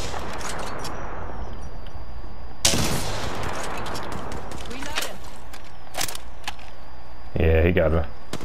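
Gunfire in Apex Legends during a squad fight: bursts of shots and sharp impacts at varying distances, with a heavy volley around a third of the way in and another burst near the end, over game ambience.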